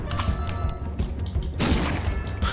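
A gun fires in Pumpkin Jack: a close, crashing burst of blasts hits hard late on, after a stretch of thumping clatter.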